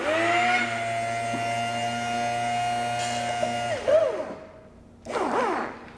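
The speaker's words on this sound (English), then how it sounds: "I want to vacuum this out" A beer pump vacuums poured beer out of a glass with a sustained whirring, humming draw and steady tonal whine, then shifting whooshing swoops as the glass empties, followed by a short pause and another gurgling burst.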